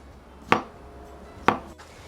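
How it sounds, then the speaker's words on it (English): A knife slices through fresh strawberries on a cutting board outdoors on a patio, making two crisp, separate chops about a second apart against quiet background. "I'm gonna finish cutting my strawberries right here."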